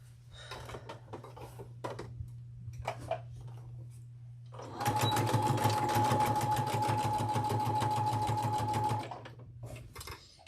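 A domestic sewing machine stitches rows of a T-shirt quilt, running in a steady, fast whirring rattle for about four seconds after some handling clicks and a low background hum.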